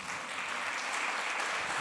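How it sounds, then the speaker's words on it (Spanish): A church congregation claps in sustained, dense applause that fills the hall evenly for a couple of seconds, with no voices standing out. "Denle un aplauso al Señor, hermano."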